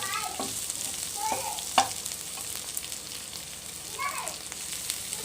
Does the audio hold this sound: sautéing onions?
yes